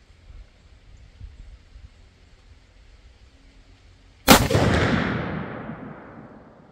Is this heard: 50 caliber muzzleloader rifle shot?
yes